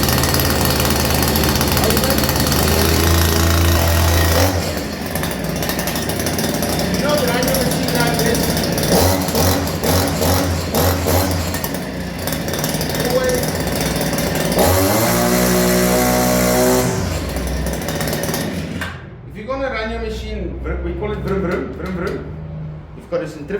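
Husky 153R brush cutter engine pull-started, then running loud and close with a buzzing two-stroke drone that shifts pitch as it revs and idles, before cutting off near the end.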